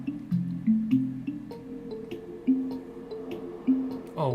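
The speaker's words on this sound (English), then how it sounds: "It's literally just water." Flowing water in Minecraft gives a soft, steady trickle with repeated gentle drips and squishy gurgles at close range, with no one talking.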